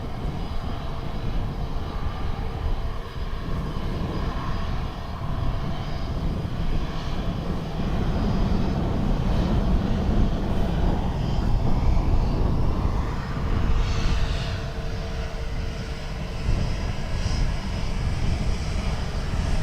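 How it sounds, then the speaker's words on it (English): An Airbus A321neo takes off at Dublin Airport, its jet engines giving a loud, broad, continuous roar that swells and holds throughout, heard from fairly close by. "followed by another 21 Neo heading to Toronto."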